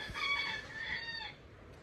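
A rooster crows once, a long strained call with a bright harmonic wail that fades out after about a second and a half.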